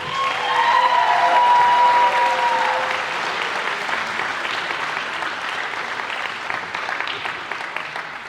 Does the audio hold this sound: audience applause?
yes